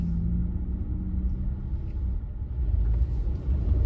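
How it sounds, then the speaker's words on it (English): A car drives along a road past an abandoned mall and a defunct hotel, giving a steady low engine and road rumble that stays even and fairly loud throughout. "So we're going to be driving past"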